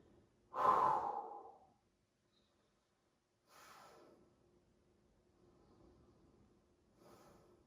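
Long, deep yogic breathing during a morning practice: one loud, full breath near the start, then a quiet gap followed by softer, airy exhales spaced several seconds apart, close and alone without talk.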